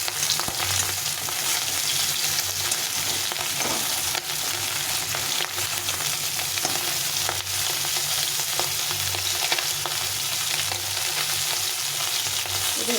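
Tengra fish frying in oil in a pan for a Bengali jhol chorchori, a steady dense sizzle and crackle that holds loud and even throughout with no talking.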